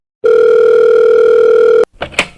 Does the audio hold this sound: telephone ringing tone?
yes